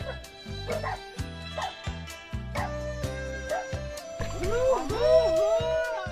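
A dog yips and whines in high, gliding cries over a steady, rhythmic musical backing.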